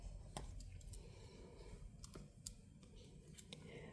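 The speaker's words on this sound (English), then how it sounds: "I'm going to cut the yarn." Scissors snip through crochet yarn while finishing a chunky baby chick amigurumi, a few sharp, quiet clicks scattered over a soft background hiss.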